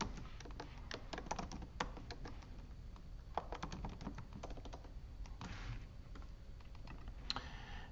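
Fingers type on a computer keyboard to fill out a web registration form, rapid irregular key clicks up close with short pauses between bursts.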